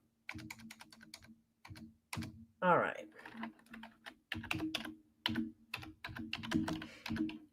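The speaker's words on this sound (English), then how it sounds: "I am typing this in." Typing on a computer keyboard fills the clip with close, rapid clicking bursts, while a voice briefly speaks partway through.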